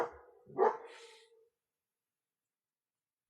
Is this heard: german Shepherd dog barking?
yes